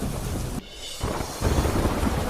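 Heavy monsoon rain pours in a dense, roaring hiss with deep rumbling beneath, briefly dipping before surging back loud and steady, in Kalyanpur taluka of Dwarka.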